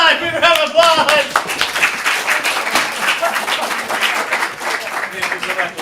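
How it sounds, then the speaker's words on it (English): An audience applauds loudly after a youth comedy improv scene at a showcase. The clapping is dense and sustained, with voices talking and cheering over it. "Give a round of applause!"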